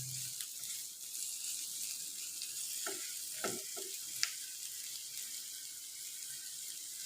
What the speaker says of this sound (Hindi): अब प्याज को भी मैंने थोड़ा सा सोटे कर लिए।